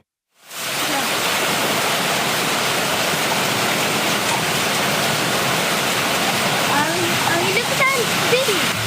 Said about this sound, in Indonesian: Hujan lebat disertai angin kencang menerjang sejumlah kawasan di kota Medan, Sumatera Utara, Kamis malam.